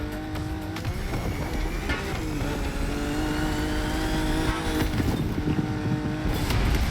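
Car in The Crew: Motorfest accelerating hard toward a jump ramp, a loud continuous engine roar with rising gear-by-gear pitch sweeps and some tire noise, steady and close throughout.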